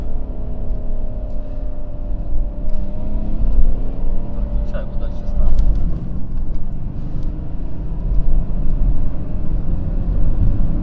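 A BMW E39 engine drones and climbs toward 5000 rpm inside the car on a test drive, a steady low rumble with rising tone and some road noise underneath.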